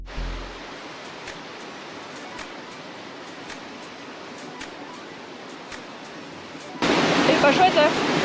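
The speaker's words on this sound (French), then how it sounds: "Ça, c'est la première des 2 cascades." Steady rushing roar of the first of two waterfalls on a muddy hike between Croatia and Slovenia, continuous broadband water noise that swells louder near the end, with no voices.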